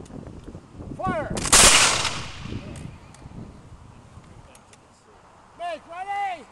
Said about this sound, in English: Take aim! Fire!